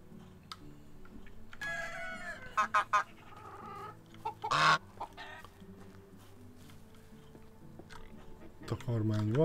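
A rooster and hens on a farm in the medieval village game Medieval Dynasty: scattered clucks and squawks break a quiet backdrop, and a louder crow-like call rises near the end.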